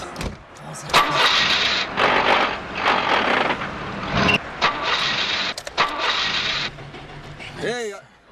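A car engine cranking and starting in repeated bursts of grinding, whirring noise with short pauses between them, close and fairly loud, with a voice briefly at the end.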